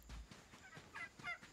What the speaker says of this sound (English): Two turkeys.